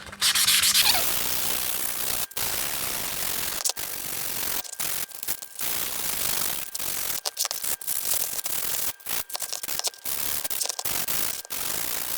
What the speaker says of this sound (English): we're going to sand down this Drawknife